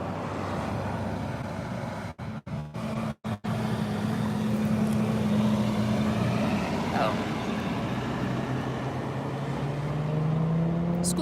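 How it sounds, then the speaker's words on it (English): A dump truck drives past at a roadside spot, a rising and falling engine drone with a low tonal hum, brief dropouts early on, and more traffic rumbling on afterward. "Oh, here comes another dump truck."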